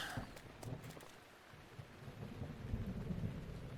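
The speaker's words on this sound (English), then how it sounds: "It is not going to be fun trying to get up there in the rain" Rain with rolling thunder in the video game The Legend of Zelda: Breath of the Wild, a steady wash of rainfall under a low rumbling storm, faint and continuous without speech.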